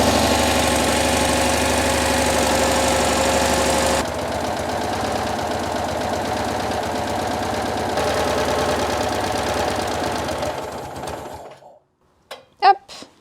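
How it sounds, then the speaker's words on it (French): Citroën 2CV engine struggling to start in the cold on a 6-volt system, running roughly with a steady loud chugging for about eleven seconds before cutting out, followed by a few brief clunks. "c'est normal qu'elle ait un peu du mal à démarrer"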